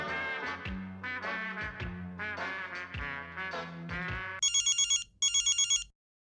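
Electronic telephone ringing on an outgoing call, two short bursts of rapid warbling tone heard after a passage of loud music, fairly close and alone.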